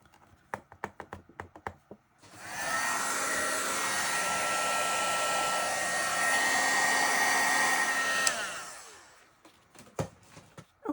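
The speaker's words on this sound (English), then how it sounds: "now I'm going to add some embossing powder and heat set this" A heat gun roars in a steady, loud whoosh for about seven seconds, heat-setting Brutus Monroe Gilded embossing powder on a card sentiment, with light taps and handling clicks before and after.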